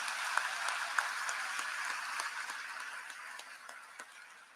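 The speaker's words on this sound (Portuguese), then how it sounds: "Uma salva de palmas para o nosso Deus." Congregation at a Catholic Mass for Saint Joseph's Day applauding in a church, a sustained, fairly distant crowd of clapping with occasional sharper single claps, slowly fading toward the end.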